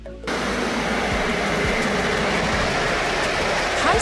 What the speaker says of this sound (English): High-speed train, whoosh,